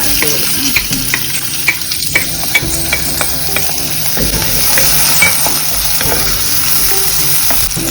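Onions sauté in coconut oil in a frying pan, a loud, close sizzle with frequent spatula scrapes and clicks running continuously, no voices present.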